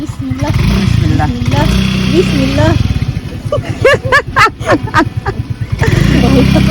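A motorcycle engine idles and revs nearby while people talk loudly over it.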